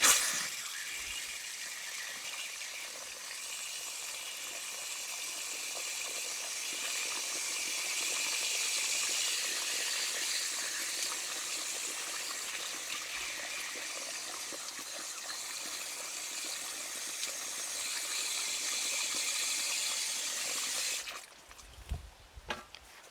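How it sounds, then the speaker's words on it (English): Water pours steadily into dry soil around freshly planted tomato plants, a continuous close trickling stream that runs for about twenty seconds and then stops, followed by faint handling noises. "Put a bit of water in there now."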